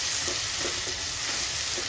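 Potato and eggplant curry sizzling and frying in a pan, a steady, loud, close hiss throughout with faint stirring scrapes and no talk.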